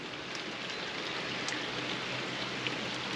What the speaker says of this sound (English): It's that type of rain that wets you through as well.